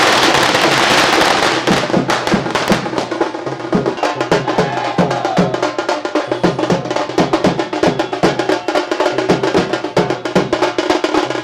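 Rapid strings of firecrackers crackle and pop nonstop at a political party workers' street celebration in Maharashtra, a dense, loud barrage of sharp bangs lasting throughout, with no clear talk.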